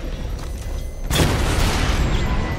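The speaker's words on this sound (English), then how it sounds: "The bomb's payload is exploding." A bomb payload explodes in the Batman Arkham Knight video game, a sudden loud broadband blast about a second in that keeps roaring and rumbling to the end.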